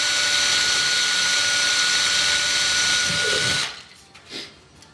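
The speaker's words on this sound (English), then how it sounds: "drill me a little hole right here" A loud, steady power drill whines continuously for several seconds drilling a small hole in metal for a twig stove, then cuts off abruptly, leaving a few faint clunks and rustles.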